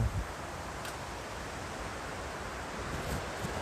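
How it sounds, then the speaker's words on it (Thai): Strong wind blowing through trees, a steady broad rushing noise with faint rustling, continuous and moderately quiet. "วันนี้ลมแรงมากๆเลย"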